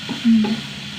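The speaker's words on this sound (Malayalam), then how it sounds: "നന്നായിട്ട് ഇളക്കിയെടുക്കാം" Leafy greens with salt are stirred in a cooking pan, giving one brief, loud scrape and a soft sizzle heard up close. No one speaks.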